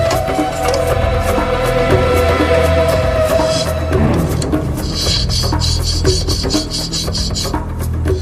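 Replica ancient gears are worked by hand in a workshop with a continuous, loud, close rasping as a tool scrapes back and forth across the metal in rhythmic strokes.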